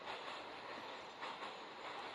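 A Kyiv metro train in the Kyiv Metro Masters game rumbles and hisses steadily on its run, a continuous broadband roar heard from the passenger carriage.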